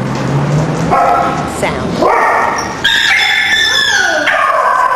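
An adult dog growls and barks at a puppy in a short reprimand, and the puppy answers with high-pitched yelps and whines, all close by, with a person talking over the exchange.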